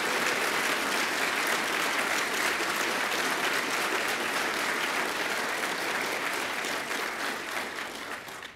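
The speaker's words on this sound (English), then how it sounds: "Can we have a round of applause for both of them?" A conference audience at a climate debate event gives sustained applause, a thick, even roar of clapping that holds strong and then tapers off at the end.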